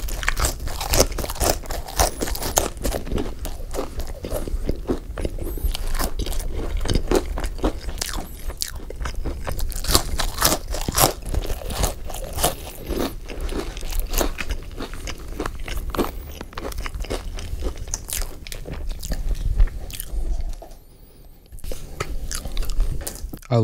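Crunchy well-done In-N-Out fries being chewed close to the microphone, a dense run of crisp bites and crackling crunches throughout, with a brief quiet pause near the end.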